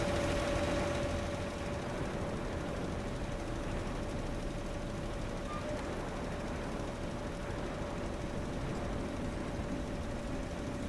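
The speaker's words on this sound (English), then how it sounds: "That's a beautiful looking tractor there too." Tractor engine idling in Farming Simulator 19, the 20-year edition quad track, a steady low rumble with a constant tonal hum held evenly throughout, no talk over it.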